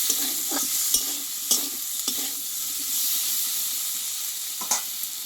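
Fish sizzles steadily in a hot pan while cooking for a thin fish curry made without onion, garlic or spices, with a few clattering stirs breaking through the constant close frying hiss.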